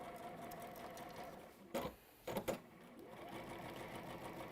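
Domestic sewing machine free-motion quilting at a high speed setting, a steady continuous whir with a brief pause and a few short bursts midway, heard close and alone.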